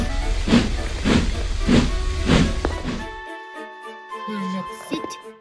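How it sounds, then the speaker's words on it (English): Steam train running away toward an expected crash, giving rhythmic chuffing steam bursts about every half second, then cutting to sustained hissing and whistle-like tones, with voices talking over it. "There's a runaway train coming."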